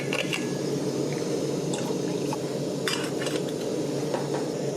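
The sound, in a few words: mixing a dehydrated chili con carne camping meal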